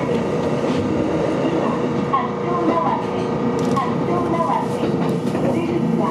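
A commuter train pulls out of a station in an urban area lined with tower apartment blocks, its steady rumble and rolling wheel noise filling the clip, with faint squeaks and clatter over the continuous drone.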